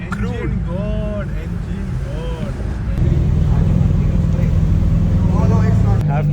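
A loud Novitec-tuned supercar at a Dubai supercar meet rumbles close by, its engine noise jumping louder halfway through and holding at a deep roar while people talk over it.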